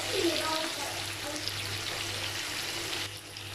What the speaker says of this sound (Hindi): सारे चिकन जो है पॉपकॉर्न बहुत अच्छे से हो रहे हैं फ्राई